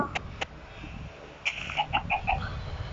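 Short, faint clucks from a game chicken, a few clicks first, then a quick run of repeated clucking notes over a low background hum.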